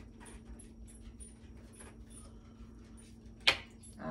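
Dogs whimper indoors in soft repeated whines and breathy pants, fairly faint, with one sharper bump near the end.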